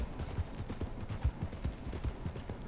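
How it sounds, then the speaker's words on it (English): Horse hooves in the Red Dead Online video game, a steady run of low, muffled clip-clop beats at a quick trot, moderately close, with no speech. "Wow, a horse in the middle of the street."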